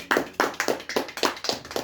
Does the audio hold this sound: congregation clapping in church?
yes